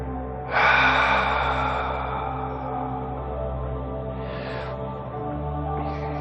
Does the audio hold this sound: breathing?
yes